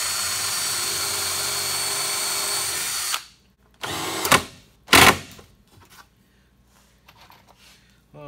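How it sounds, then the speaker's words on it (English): Power drill boring pilot holes into wood for a fish tank stand, a steady high whine for about three seconds, then short separate bursts as the drill restarts, with quiet gaps between them. "drill some pilot holes so that the wood doesn't crack"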